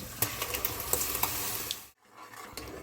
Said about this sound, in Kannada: ಈ ಪೇಸ್ಟ್ನ ಸ್ವಲ್ಪ ಹಸಿ ಸ್ಮೆಲ್ಲು ಹೋಗೋವರೆಗೂ ಚೆನ್ನಾಗಿ ಬೇಯಿಸ್ಕೋಬೇಕು